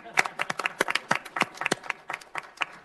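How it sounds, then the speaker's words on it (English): A brief round of applause at a city council regular meeting, a modest group of hands clapping in quick irregular bursts that taper off, fairly close and steady with a faint voice underneath. "I want to get a round of applause because that was a great one."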